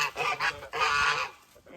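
Geese on a garden property honk close by in a burst of several loud, nasal calls, with short pauses between them and one long, drawn-out honk in the middle.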